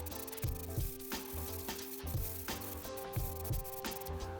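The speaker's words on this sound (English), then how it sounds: "Give a quick spray can paint job because I'm not a fan of this orange pipe color." Orange PVC pipe getting a quick coat of spray can paint, a steady hissing spray with short pulsing bursts, heard under background music.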